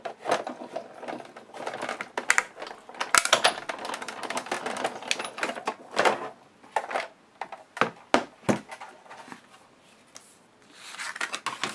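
Paper card panel being cut out by hand, a series of close, sharp snips and crisp rustles in uneven bursts with short pauses between cuts.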